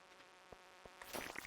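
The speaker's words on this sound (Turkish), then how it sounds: "Arı ya bu." A faint, brief bee buzz in the video game Stardew Valley, growing a little louder and busier near the end against a quiet background.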